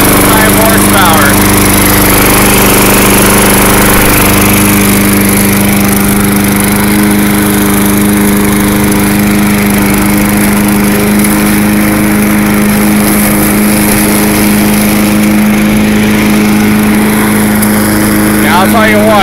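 An MTD Lawn Chief lawn mower engine drones steadily at a constant pitch throughout, loud and close, with a faint voice briefly heard near the start and end.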